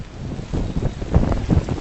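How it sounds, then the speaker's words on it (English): Heavy rain pouring down outdoors at Ground Zero, a dense steady roar mixed with rumbling wind buffeting the phone microphone, loud and close. "it is coming down, pouring down"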